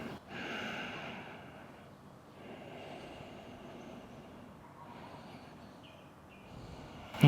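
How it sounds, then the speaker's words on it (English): Slow, steady breathing during a yoga pose, soft airy inhales and exhales close by with a faint hiss, fairly quiet throughout and without speech. "Just a couple more breaths here"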